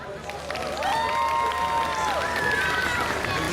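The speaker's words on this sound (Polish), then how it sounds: "I jeszcze raz wielkie brawa." An outdoor city-festival crowd at a volleyball team presentation applauds and cheers, with a steady mass of clapping and rising shouts and whistling voices carrying over it.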